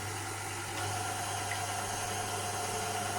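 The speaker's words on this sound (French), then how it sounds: "on met donc le robot en marche en vitesse moyenne pour démarrer" A stand mixer whisks egg whites for French meringue macarons at medium speed, giving a steady motor whir with a constant low hum throughout.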